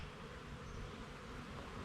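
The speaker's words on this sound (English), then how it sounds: "we've got lots of bees" Honey bees buzz at an open beehive in a dense, steady drone that surrounds the listener. No voices are heard.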